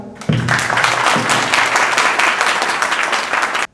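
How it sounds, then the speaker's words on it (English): Warm applause from a debate audience greeting the final speaker, a dense burst of clapping that starts abruptly, holds steady and loud for about three seconds, then cuts off sharply. "Let's motivate him with your warm applause."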